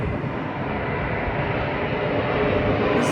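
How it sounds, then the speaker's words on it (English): An airplane passing outside an atomic museum, a steady broad roar that holds level and swells slightly toward the end, fairly loud and alone with no talk. "Airplanes coming."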